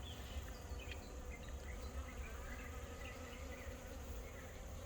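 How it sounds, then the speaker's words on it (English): Many bees buzz steadily and continuously around an essential oil mixture containing apple cider vinegar, a dense, fairly quiet drone of wings with a few passing closer insects. "don't know if you can see all these bees flying around"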